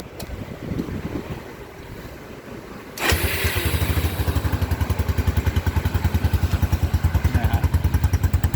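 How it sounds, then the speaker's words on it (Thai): A Kawasaki Boss 175 motorcycle engine, freshly rebuilt with a new piston and con rod and fitted with an unwelded exhaust, idles close by with a fast, even thumping pulse after a windy, noisy start, and nobody talks. "เดินเบาปกติฮะ"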